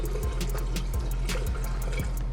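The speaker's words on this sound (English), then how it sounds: "Then we're gonna go in with our gin." Gin from a Purcellville distillery is poured into a lychee cocktail, a soft steady liquid trickle and fill with small drips against a constant background hum.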